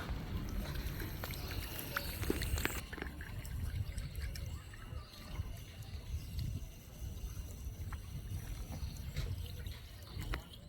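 Tap water runs steadily for washing at home, a continuous close splashing hiss with a brief louder stretch early on and no clear talk over it.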